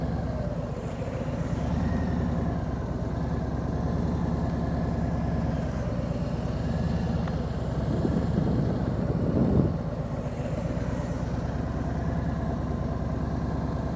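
A motorcycle engine idles steadily with a low, even rumble carrying two riders, the pitch rising slightly for a moment as the clutch is let out and revs lift, then settling back.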